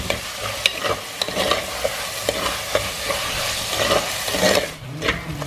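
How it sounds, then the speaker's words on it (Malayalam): Two medium tomatoes going into a frying pan for karimeen mappas, a Kerala pearl-spot fish curry, with a loud, steady sizzle and sharp scraping stirs scattered throughout. "അപ്പോൾ നമ്മളിനി ഇതിലേക്ക് തക്കാളി ഇടുവാണ്."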